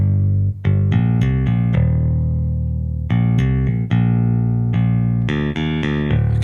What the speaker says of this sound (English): So here's our bass. In fact, I'll just bypass it first off.